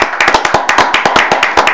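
Applause from a small audience at a city council special session in Bountiful, close and distinct claps in an uneven rhythm with each hit clearly separated.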